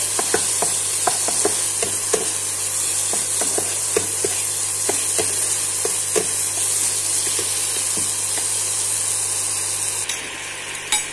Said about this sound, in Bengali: এবার ক্যাপসিকামটা একটু ভাজা ভাজা করে নেব।